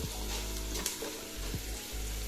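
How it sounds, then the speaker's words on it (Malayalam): Salted onions sauté in a pan for Palakkad-style chicken biryani, a steady close sizzle with a few brief scrapes of a spoon stirring, no voices heard. "ഒന്നുകൂടിയിട്ട് കുറച്ചും കൂടി ഒന്ന് വഴറ്റി കൊടുക്കാം."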